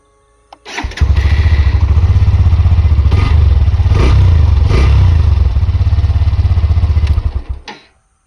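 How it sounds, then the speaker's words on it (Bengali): A 2024 Hero Xtreme 125 motorcycle with a short sporty exhaust idles close by, a loud, steady rapid thump that rises briefly in a couple of light revs before cutting off. "এটি হলো এই বাইকের এক্সস্ট সাউন্ড।"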